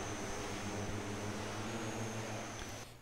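Steady airplane engine drone from Microsoft Flight Simulator X during landing practice at St. Barth, a continuous loud hum with a high whine, easing off slightly near the end, no voices.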